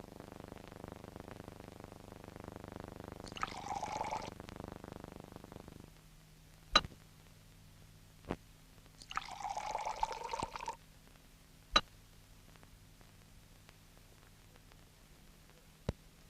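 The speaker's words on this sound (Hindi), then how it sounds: "आइए, आपके लिए मैं दूसरा गिलास बना देता हूँ।" A drink is poured into a glass in two faint bursts of about a second each, set against a low hum and a few scattered clicks, with no speech.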